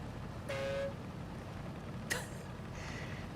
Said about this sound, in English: What does the horn sound like on this?